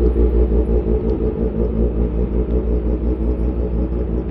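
A scooter engine fitted with an upgraded CVT idles and revs up close, a loud, continuous low rumble that pulses slightly and has no voices over it.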